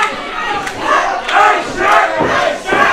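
A wrestling crowd at a WrestleFest match roars in loud rolling waves of cheering and chanting, rising and falling every half second or so.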